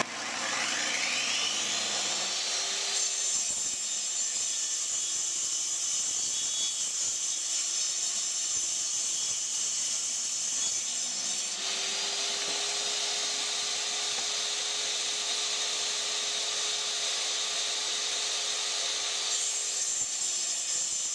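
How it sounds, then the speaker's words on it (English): A power saw runs through wood boards for a bird house, a steady high motor whine and cutting noise that holds for long stretches, with a small dip in pitch as the blade works through each board. "use your hand saw or your skill saw or your jigsaw, however you want to cut it out"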